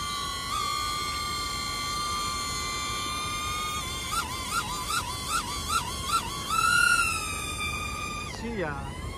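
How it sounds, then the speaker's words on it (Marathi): A drone flies overhead at an engagement celebration, giving a steady, fairly loud motor whine whose pitch wavers and warbles in the middle, then swoops sharply downward near the end. "आमच्या वरती ड्रोन आहे"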